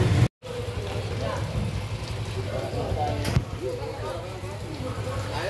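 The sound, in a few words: rain falling in a narrow alley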